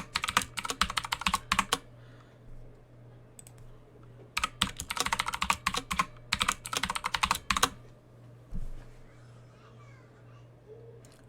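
Someone types a username and password on a computer keyboard during a Linux installation: bursts of rapid, close key clicks separated by short pauses, over a faint steady hum.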